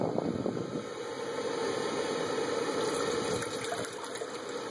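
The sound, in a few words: two cups of water poured into GSI solo pot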